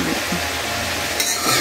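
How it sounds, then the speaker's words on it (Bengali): Shredded cabbage being stirred as it fries in a pan makes a close, steady hiss and sizzle, with soft shuffling from the stirring and a brighter burst near the end. "আমি এটাকে একটু নেড়ে নিই কিছুটা সময় তো এটাকে ভাজতে হবে"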